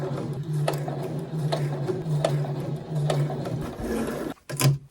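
A home sewing machine runs steadily and close, stitching a seam on small doll clothes, with a regular mechanical clatter and a brief pause near the end before it starts again.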